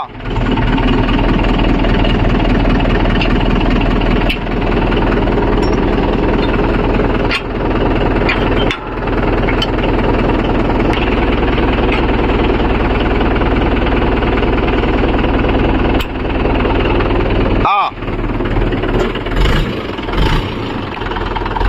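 A Mahindra 415 DI tractor pulls a 9-point spring cultivator across farmland, its diesel engine droning loud and steady for the whole stretch, with occasional knocks and one brief dip near the end.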